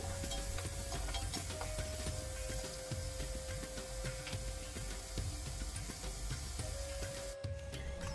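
Onions fry in a pan toward golden brown for a palak mushroom dish, giving a steady, fairly quiet sizzle with faint stirring ticks throughout and no speech.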